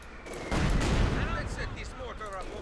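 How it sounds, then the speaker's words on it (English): Artillery bombardment in the Company of Heroes 2 strategy game, a dense rumbling barrage of booms and blasts that swells after a moment and stays loud, with faint voice-like chatter mixed in. "let's bombard this area."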